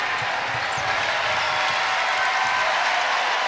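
At a women's NCAA basketball tournament game between Kansas State and NC State, an arena crowd roars in a steady, loud wash of cheering, with faint thumps of a bouncing ball beneath.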